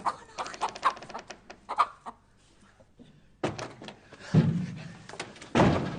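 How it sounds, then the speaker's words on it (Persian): Chickens and roosters cluck in bursts, close and fairly loud, with thumping knocks and a door-like slam mixed in; no speech is heard. "پای مرغ و خروسا رو واز کردم."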